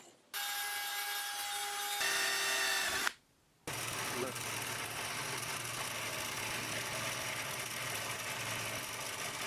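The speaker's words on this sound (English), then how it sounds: "Actually, you can just use the hand drill if you want." A hand drill grinds steadily into wood, pausing briefly before a long, continuous rasping bore resumes.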